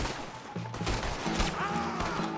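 Gunfire in Red Dead Redemption 2 during a wagon shootout, with dense, muffled shots and crashes blending into a busy, noisy mix.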